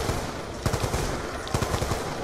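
Rapid bursts of machine gun fire from Black Ops 2 Zombies on the Die Rise map, loud and close, in two clusters of quick rattling shots with no talk over them.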